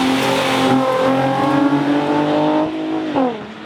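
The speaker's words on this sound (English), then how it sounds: "That blow off is ridiculous." A 2JZ-engined car revs hard and roars past near a wall, its harmonic engine note climbing and then dropping sharply as it goes by, with a blow-off valve hiss at the end; loud and close, with no talking.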